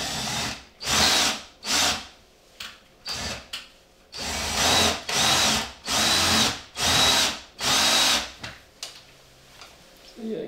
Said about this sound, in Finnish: Kokeillaan porata niitä pop-niittejä pois.